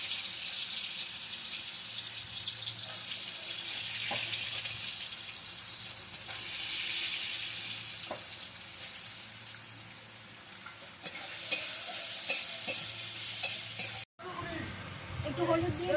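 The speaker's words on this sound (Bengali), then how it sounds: "জলটা ঝরিয়ে সয়াবিনটা দিয়ে দিলাম।" Boiled, drained soybean chunks hitting hot oil, a broad hissing sizzle that swells and fades with faint knocks of a utensil, ending in a louder scraping burst.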